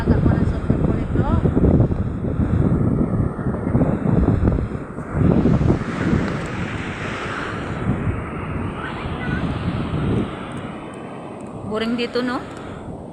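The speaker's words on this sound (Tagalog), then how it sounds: "Ganda hangin." Strong wind buffets the microphone on the beach at Napsan, a constant low roar, with a person speaking briefly over it.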